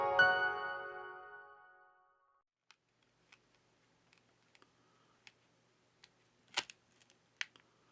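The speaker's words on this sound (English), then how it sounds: "To loosen the adhesive, we use a plastic triangle opening tool." A plastic triangle opening tool works under the adhesive-held back cover of a Redmi 7 phone, giving sparse small clicks and ticks after a fading rattle at the start, faint and close in a quiet room.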